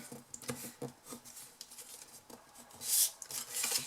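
A bone folder or similar tool rubs firmly along score lines on a folded paper card. The result is a close, dry, scratchy rasp in quick repeated strokes, with a couple of brighter swipes near the end.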